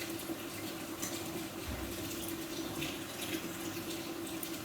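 Water runs from a kitchen tap filling a sink, a steady close hiss and splash that holds evenly throughout without voices.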